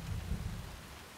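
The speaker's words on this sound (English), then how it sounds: "Use the rain to increase your ambient noise." Steady rain falling in the stealth video game Splinter Cell: Chaos Theory, a dense continuous wash with low rumbling underneath, fairly quiet and without any voices.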